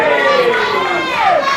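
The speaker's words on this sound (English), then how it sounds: "Crowd's going crazy for Tommy Lockhart." Crowd at a live pro wrestling show during an impromptu open challenge match, a dense sustained roar of voices and shouts, steady and loud throughout with a rising whoop near the end.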